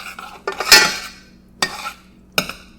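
Metal utensils clink and scrape against a pot while butter is stirred into couscous, three distinct bursts of clattering with quieter scraping between, close and alone.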